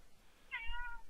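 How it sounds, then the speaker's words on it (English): A grumpy house cat, annoyed at being moved off a blanket, lets out a single short, drawn-out meow, close but fairly quiet in an otherwise still room. "that was the sound of my cat being grumpy"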